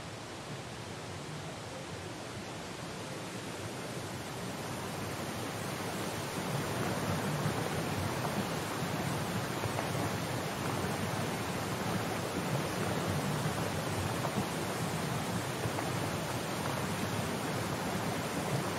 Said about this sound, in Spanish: Contra más te acercas a la cascada, más se nota el agua.